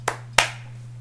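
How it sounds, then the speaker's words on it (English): Two sharp, close hand claps land about a third of a second apart over a low steady hum, the second louder and ringing briefly afterward. "Clap it up for that man, yo."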